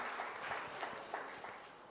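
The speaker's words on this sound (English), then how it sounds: "Let's give a round of applause to Sanjana." An audience at a book release event applauds, a dense, steady patter of clapping from many hands heard at moderate distance.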